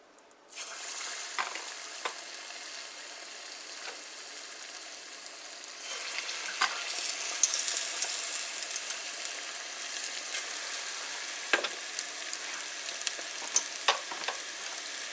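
Vegetable pakoras frying in hot oil: a close, steady crackling sizzle starts abruptly after a brief quiet moment, grows a little denser midway and carries on throughout, punctuated by occasional clicks and scrapes of stirring.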